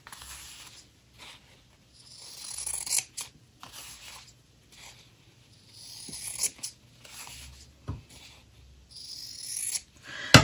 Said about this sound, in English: my fabric scissors and cut around by eye